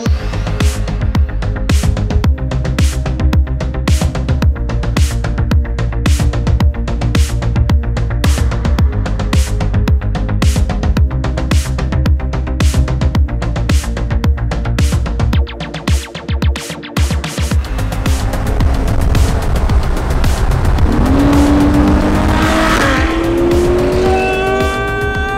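A Porsche GT3 pulls away with a loud engine roar that climbs toward the end, where a brief tire squeal cuts through. A pounding rhythmic beat plays throughout.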